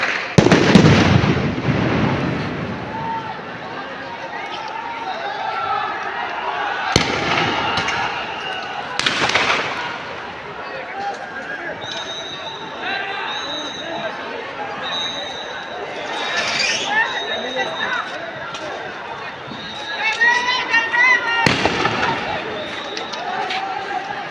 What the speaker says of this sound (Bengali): শিক্ষার্থীদের আন্দোলনের নির্বিচারে পুলিশ গুলি সাউন্ড গ্রেনেড